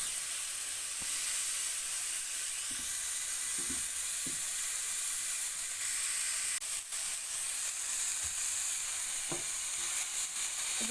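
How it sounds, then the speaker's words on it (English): Tomatoes charring and blistering in a hot pan give a steady, loud sizzle with a constant frying hiss and a few soft pops and stirring knocks, with no voices. "Just let the tomatoes start to char and burst."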